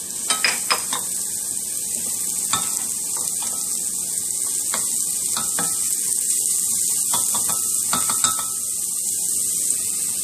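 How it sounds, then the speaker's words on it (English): Ground meat browns with onions and garlic in a pan for an Edam string beans dish: a constant bright hiss of frying punctuated by irregular scraping clicks from stirring. "We're going to add the meat. We're going to give this a little bit of a brown color."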